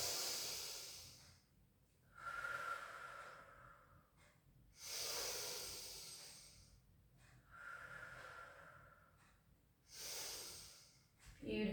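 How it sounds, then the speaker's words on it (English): Slow, deliberate breaths during a gentle pilates mobility stretch, heard close and quiet as three or four long airy inhales and exhales spaced a few seconds apart. "Just take a breath in."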